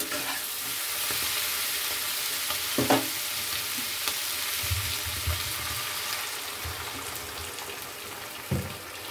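Vegetables fry in a pan for a Bengali pui shak dish with fish head, giving a constant close sizzle broken by stirring scrapes and a couple of short clattering knocks, with no voices.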